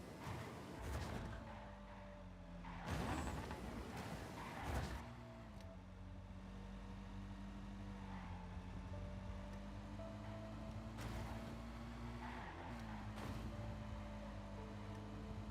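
A video game car driving with engine hum that rises and falls, punctuated by a few brief whooshing bursts and sharp tire skids, all at moderate level with no voices.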